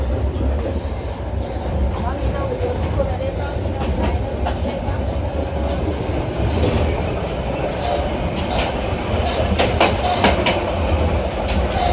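An old, rusty train at least 50 years old runs on rails in Myanmar between Golden Rock and Yangon, giving a loud, steady rumble with rhythmic clickety-clack of wheels and occasional metallic squeals throughout.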